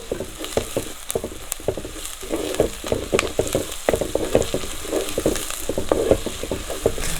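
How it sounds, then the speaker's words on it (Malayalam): Shallots and curry leaves fry in hot oil, giving a steady dense crackle and sizzle with scattered sharp pops throughout, close and continuous with no voices. "എണ്ണയ്ക്ക് അത് ചെറിയുള്ളി അങ്ങ് വഴണ്ട് വരുമ്പോൾ"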